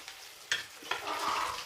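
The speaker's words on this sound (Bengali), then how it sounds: "এই মাছ কটাও আমার ভাজা হয়ে গেছে। আমি এগুলোও তুলে নিচ্ছি।" Pieces of katla fish fry in a pan of hot oil for a Bengali curd fish curry. A quiet, soft sizzle is broken by a few light stirring or turning clicks.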